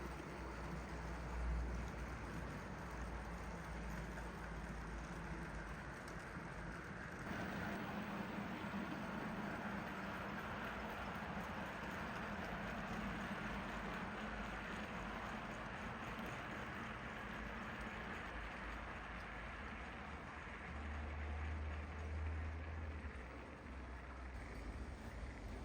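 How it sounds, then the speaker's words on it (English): A Hornby LNER A1 2554 model locomotive runs along a layout hauling an empty stock train, a continuous mechanical whir and rumble close by that holds steady throughout. "a Hornby LNER A1 2554 Woolwinder heads north with the 7 a.m."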